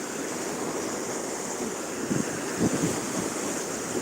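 Rough Black Sea waves roll and wash in a continuous roar with wind buffeting the microphone, and a few louder surges break near the end.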